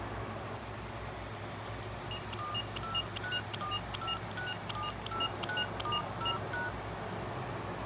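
Touch-tone dialing on an AT&T 5471 telephone: a run of about a dozen short dual-tone beeps at a steady, even pace, fairly quiet over a constant background hiss.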